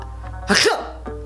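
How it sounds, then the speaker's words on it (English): A single sharp sneeze bursts out close by, brief and loud, with quiet background before and after. "it's a sneeze"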